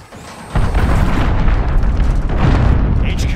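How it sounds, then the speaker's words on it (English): A cruise missile explosion in Call of Duty: Modern Warfare multiplayer hits with a sudden loud boom, then a sustained heavy rumble and debris roar that keeps going for several seconds. "Enemy cruise missile, take cover."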